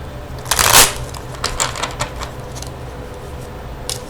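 A deck of playing cards is shuffled up close, a brief riffling burst followed by lighter scattered flicks and taps.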